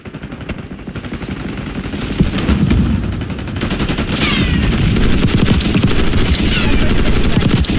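Loud, continuous automatic gunfire in Call of Duty: Black Ops 6 multiplayer, rapid overlapping shots building in intensity with occasional heavier bangs mixed in.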